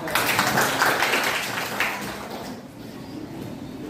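Classroom of students applauding together, a dense burst of clapping that is loudest at the start and then thins out and fades over a few seconds.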